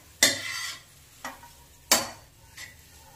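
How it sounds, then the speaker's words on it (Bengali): Sliced onions frying in hot oil for birista while being stirred: three or four sharp scraping, sizzling strokes in quick succession, each fading into a soft sizzle, close and fairly quiet. "পেঁয়াজটাকে লাল লাল ভেজে পেরেস্তা বানিয়ে নেব"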